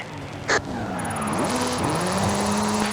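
A 2-litre turbocharged, all-wheel-drive Ford Focus RS RX Gymkhana car in Forza Horizon 5 revs hard, its engine note climbing and falling through gear changes while tires skid and squeal, with a short sharp burst early on.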